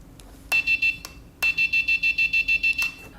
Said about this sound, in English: When I press the button, everything lights up and the buzzer goes off.